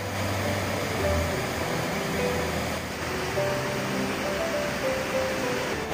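Steady, dense rush of a waterfall pouring into a pool in the Gucheon-dong valley at Muju, a continuous broadband roar with no pauses, fairly close and alone.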